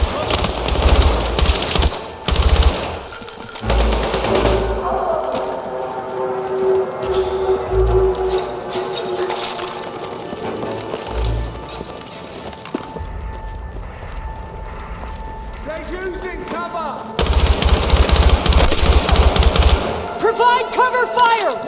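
Bursts of automatic machine gun fire and heavy gunshots ring out across a Battlefield 6 combat mission, loud and repeated, with brief lulls between volleys and a voice calling out amid the shooting.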